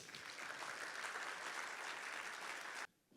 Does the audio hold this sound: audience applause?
yes